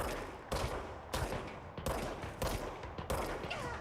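Gunfire in the game Control comes as about six loud, sharp bursts at roughly half-second intervals, each a heavy punchy blast with a short ringing tail, with no talking over it.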